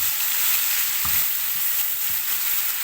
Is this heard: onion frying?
yes